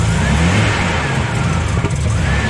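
A Nissan R31 Skyline engine revs under throttle, a loud close and steady drone from the car, mid-pitched and sustained for a couple of seconds without voices.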